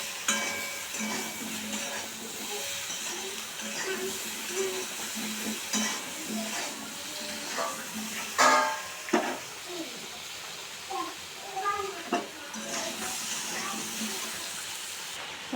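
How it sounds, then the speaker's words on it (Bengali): Pointed gourd and potato fry with turmeric in a pan, giving a continuous soft sizzle, with scattered utensil clinks and scrapes that grow louder and more frequent toward the end. "এই যে পটল আলু ভেজে নিচ্ছি, এই জন্য হলুদ দিয়ে দিলাম"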